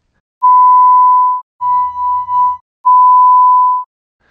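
Synthesized pure tones imitate a resonating wine glass: a long steady tone, a pause, a slightly wavering tone with a low buzz beneath, then another long steady tone, loud and clean against silence.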